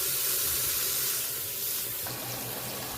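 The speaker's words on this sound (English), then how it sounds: "Wash it in hot water, drain it." Hot tap water runs over rice being rinsed in a sink, a continuous close hiss and splash with a slight drop in level partway through and no talking.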